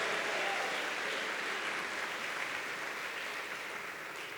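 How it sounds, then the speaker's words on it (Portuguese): A church congregation claps together in a steady, dense wash of applause that holds at an even level throughout, with a faint murmur of voices mixed into the clapping. "Dê uma salva de palmas ao Senhor"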